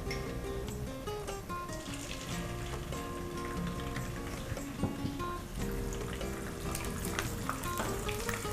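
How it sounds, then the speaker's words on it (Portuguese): An egg frying in hot olive oil gives a quiet, crackling sizzle with scattered pops and faint clinks of utensils, steady throughout without speech. "A gente está esquentando o nosso azeite. Vamos entrar com o ovo."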